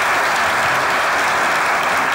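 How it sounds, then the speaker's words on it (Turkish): Audience applause in a television comedy studio, a dense, steady wash of clapping from a large crowd that holds loud and even throughout without any speech. "Alkışlıyoruz Okan Bey'i."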